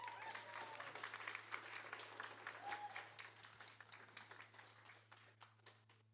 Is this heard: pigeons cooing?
no